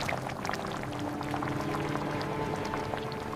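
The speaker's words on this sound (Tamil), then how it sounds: "தேங்காயோட பச்சை வாசனை போகிற வரைக்கும் ஒரு 2 நிமிஷம் கொதிக்கட்டும்." Ash gourd kootu with coconut paste bubbling in a pot, a steady close simmer of soft pops and gurgles with no talk.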